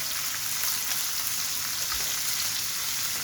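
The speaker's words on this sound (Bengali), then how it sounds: "পুরো মাছটাই দিয়ে দিলাম ভাজার জন্য এই যে এখন ভাজা হচ্ছে" Whole hilsa fish, filled with roe, frying in hot oil: a steady, dense sizzle and crackle that holds evenly throughout, close and with no voices.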